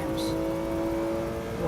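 A car engine in the Assetto Corsa racing game screams steadily at around 8,000 RPM, a loud, sustained high-pitched drone held through the whole moment.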